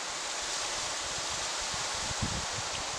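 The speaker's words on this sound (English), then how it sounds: "It is a windy night tonight." Steady wind roars and rushes without pause at night while van camping, a broad continuous noise with faint low buffeting.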